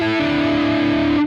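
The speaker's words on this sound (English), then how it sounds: "there's a lot of noise like that when playing with distortion" A heavily distorted electric guitar holds a loud, buzzing sustained tone, with overlapping notes producing a harsh, noisy wash that cuts off abruptly at the end.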